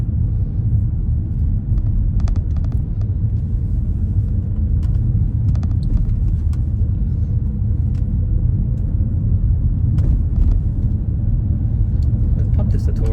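A car's engine and road noise rumble steadily from inside the cabin during a driving test in Finglas, low and continuous with a few light clicks, as the car rolls down a hill in third gear while a voice speaks faintly now and then.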